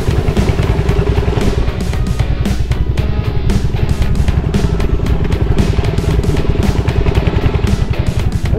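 A motorcycle rides off-road through a forested elephant corridor in Karnataka, its engine chugging loud and close throughout with rapid rhythmic pulses and rattling clatter over rough ground.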